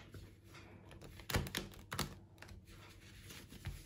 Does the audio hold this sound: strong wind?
no